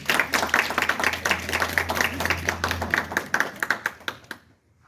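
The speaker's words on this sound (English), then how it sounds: "a big round of applause. Come on, they deserve better." Audience applause fills a press event for a mayor, council members and a CRA chair, a dense burst of many hands clapping that thins into a few scattered claps before falling silent.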